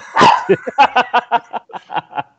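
A dog barks about ten times in a quick, uneven series of short, loud, close barks, with the first bark longer and fuller than the rest.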